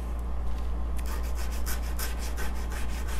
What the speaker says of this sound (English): So I'm going to go ahead and get that sanded.